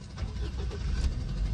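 A car engine turns over and settles into a steady, fairly loud low rumble for a test drive. No one speaks over it.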